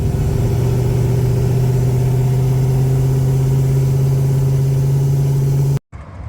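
A 1980 Trans Am with a turbocharged 6.0 engine swap drives along, its engine droning loud, steady and close with a strong low hum, then cutting off abruptly just before the end.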